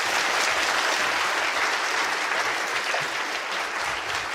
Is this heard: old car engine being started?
no